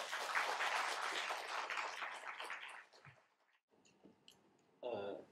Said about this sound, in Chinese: 让我们以热烈的掌声欢迎洪总经理